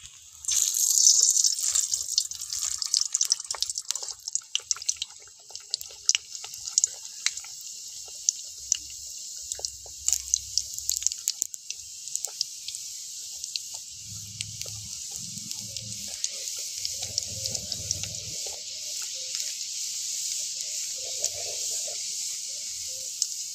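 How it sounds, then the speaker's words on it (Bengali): Luchi made from coconut and rice flour, with no wheat or semolina, sizzles and bubbles steadily in hot oil, a continuous bright hiss with scattered crackles and faint low thumps, heard alone without talk. "তেলটাও গরম হয়ে গেছে, আমি তেলের উপরে দিয়ে দেবো।"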